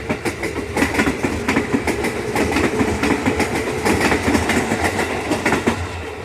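A KRL commuter electric train departs a station, rumbling and clattering steadily, wheels clacking over rail joints in a continuous, loud, close roll.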